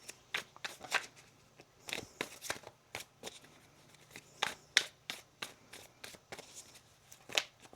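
Tarot cards are shuffled repeatedly, crisp riffling and slapping sounds in irregular bursts, close and quiet, with no talking.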